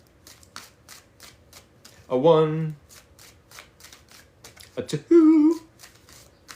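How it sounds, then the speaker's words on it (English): Cards are shuffled in a series of quick riffling bursts, close and crisp, with a voice briefly counting between them. "We're going to get 3 more shuffles"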